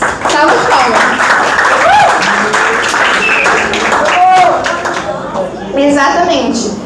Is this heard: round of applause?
yes